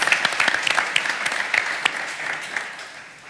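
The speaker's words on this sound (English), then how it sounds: "can I please have a huge round of applause for my wonderful panel?" A crowd applauding a panel at a student living conference, dense clapping with a few sharp individual claps standing out near the start, gradually thinning and fading toward the end.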